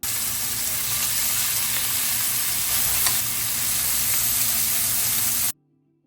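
Frozen taro stolons (kochur loti) hitting a hot pan give a loud, steady hiss and crackle with light stirring scrapes, held constant before cutting off abruptly to silence.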